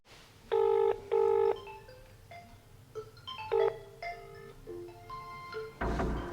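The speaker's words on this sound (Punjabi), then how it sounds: "ਆ ਫੋਨ ਘਰੇ ਕਿਵੇਂ ਵੱਜੀ ਜਾਂਦਾ" A mobile phone at home rings out with a chirpy electronic ringtone of repeated bright tones, loud and close, followed by a burst of rustling handling noise.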